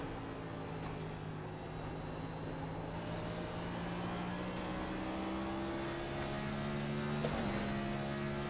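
A race car engine drones at Richmond while the car circles the track, its pitch climbing slowly through the gears. A brief louder pass comes near the end over a steady background of car noise.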